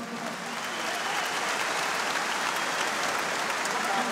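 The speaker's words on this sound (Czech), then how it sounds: "potlesk pro Alberta Pereiru" A dense, steady wall of crowd applause fills an arena at a mixed martial arts event as fighter Alberto Pereira is cheered, sustained at an even level throughout.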